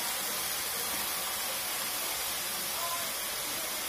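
Spices hit hot oil in a pan for a sprouted moong sabzi, giving a steady, even sizzling hiss throughout, close and moderately quiet, with no talk.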